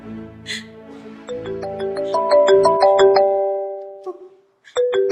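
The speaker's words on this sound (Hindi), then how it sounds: "हाँ उसी का फोन है" A phone rings with a melodic ringtone, a sequence of bright tonal notes building over a few seconds, pausing briefly before resuming, heard close and fairly loud.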